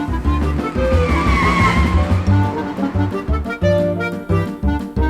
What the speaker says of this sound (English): He can drive off in my car.